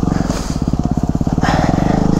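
A Yamaha WR250R dual-sport motorcycle engine chugs loudly and close by at a steady low idle, its rapid even thumping pulses filling the whole moment, with a rider speaking briefly over it.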